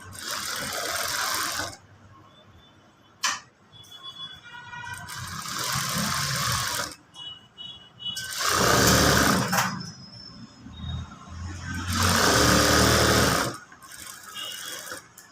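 A sewing machine stitches a blouse in several separate bursts of rapid whirring, each a second or two long, with quieter handling sounds between them, close by.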